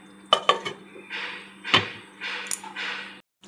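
A metal lid clatters onto a cooking pot for simmering a vegetarian stuffed pointed gourd (potol) curry, with several sharp clinks and scraping rattles close by, followed by softer hissing between them.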